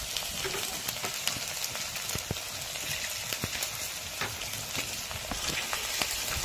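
Ginger garlic paste frying with browned onions in a pan, giving a steady, close sizzle and crackle with occasional light clicks from stirring.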